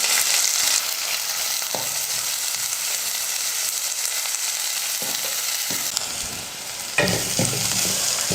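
Small onions and curry leaves sautéing in a pan for a raw-mango dish, a steady close sizzle with occasional stirring scrapes.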